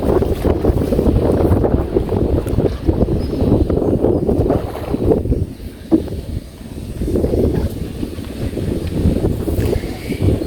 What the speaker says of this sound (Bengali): নৌকায় বাহ কি সুন্দর যে বাতাস, ঠান্ডা বাতাস।